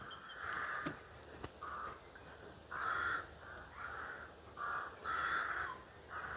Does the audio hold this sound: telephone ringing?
no